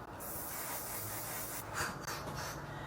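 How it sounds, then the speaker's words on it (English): Makeup setting spray mists out in a steady hiss from a bottle, close and fairly loud, with a short break and a few fainter bursts near the end; no one speaks. "Then she applied one size setting spray, and apparently her lipstick no longer transferred."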